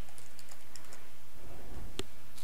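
Keys tapped on a computer keyboard while entering a Linux command, a quiet run of light clicks followed by a sharper keystroke near the end, with no voices.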